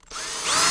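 A power drill bites into metal, starting with a short click and then a steady, loud, high whine that climbs in pitch as the bit speeds up and cuts.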